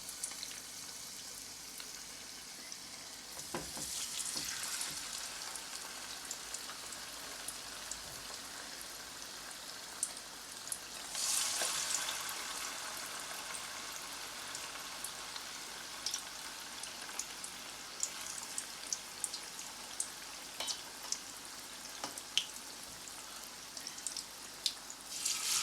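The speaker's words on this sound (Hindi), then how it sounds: "ऑयल गरम हो गया है, ये मैंने मीडियम फ्लेम पे रखा है। अब हम इसे फ्राई करते हैं।" Chicken pieces frying in hot oil over a medium flame for Pakistani-style fried chicken, a steady broadband sizzle with crackling pops, swelling louder twice as the pieces settle, heard alone without talk.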